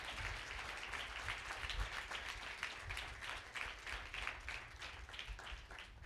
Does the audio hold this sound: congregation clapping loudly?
yes